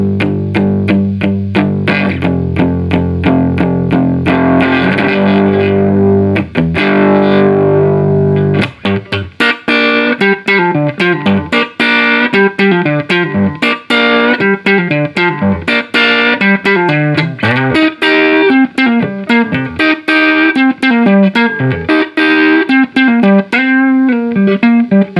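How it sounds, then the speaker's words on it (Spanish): Low, heavy chords strummed on an electric guitar through a cheap amplifier fitted with an expensive speaker, loud and distorted with a thick, punchy bass, ringing out alone without talk. "Cuando tocamos estos acordes graves, el sonido no zumba, sino que tiene unos graves contundentes."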